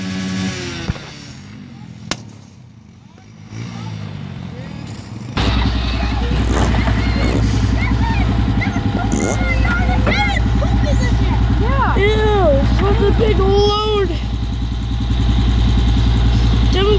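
Quad bike engines running on a muddy trail, starting quietly then jumping to a loud, steady droning idle with harmonic hum; excited people talk and exclaim over the engine noise.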